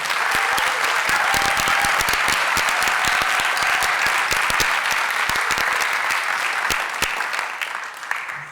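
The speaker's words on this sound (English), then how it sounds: "Let's all give a round of applause for the artists." Loud, sustained applause from a sizable crowd at an art prize gala and awards ceremony, dense clapping filling the room, tapering slightly toward the end.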